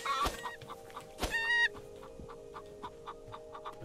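Chicken in the video game Tales of Morrow, clucking in two sharp nearby bursts followed by a string of softer, evenly spaced clucks over a steady background hum.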